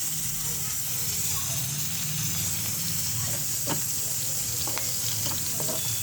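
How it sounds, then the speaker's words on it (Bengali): Chopped onions sizzle steadily in hot oil, a constant hiss with occasional faint clicks and pops. "তেলের মধ্যে পেঁয়াজ কুচিগুলো দিয়ে দেবো। আরেকবার ভাজে দেবো ভালোগুলো।"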